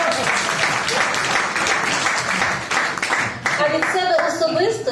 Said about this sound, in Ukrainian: аплодуйте!